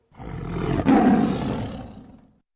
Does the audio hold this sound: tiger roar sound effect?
yes